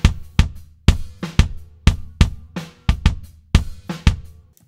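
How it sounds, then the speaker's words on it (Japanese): Kick drum miked from outside the shell, about ten hard, punchy thumps in a steady groove with deep boomy low end and short decays, played alone and close. "これがキックのアウトの音ですね。"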